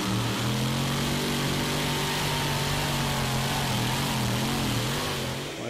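Fenrir, a Danish pulling tractor, roars continuously through its pull, its engine note loud and close with steady droning harmonics that sag slightly and recover, no voices over it.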